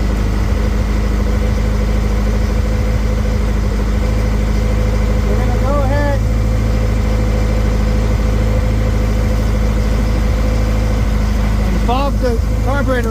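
An I/O boat motor idles steadily while being winterized, a constant loud engine drone filling the whole stretch, with brief voices breaking in near the middle and end.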